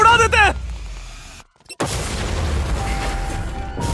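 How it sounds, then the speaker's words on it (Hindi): A loud deep boom from a blast set off while escaping police, a sudden heavy thump after a brief silence, followed by a long rumbling roar, with excited voices heard just before it. "इसे उड़ा देते हैं।"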